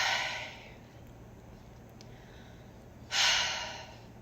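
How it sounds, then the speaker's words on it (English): A breathy human sigh, first a soft airy exhale fading at the start, then a louder, clearer sigh near the end, alone with no speech. "That's right, sigh."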